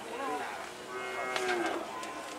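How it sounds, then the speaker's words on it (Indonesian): Cattle bound for slaughter moo inside a livestock truck, a couple of drawn-out bellowing calls overlapping at close range over a steady background of hubbub. "sudah ada 4 ekor sapi di dalam"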